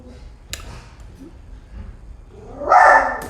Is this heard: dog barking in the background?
yes